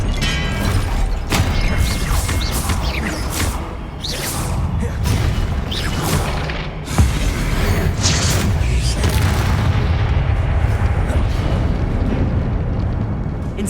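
Expelliarmus spell blasts and combat effects from a Hogwarts video game boom and whoosh loudly in quick succession, with crashes and mechanical clatter filling the scene alongside a speaking voice.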